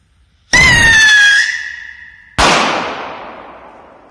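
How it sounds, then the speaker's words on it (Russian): VR2 Crazy Rocket firework launching with a loud whooshing whistle that shrieks for about a second, then a sharp, loud bang as it explodes, the blast tailing off into a long echoing decay outdoors. "это VR2 Crazy Rocket"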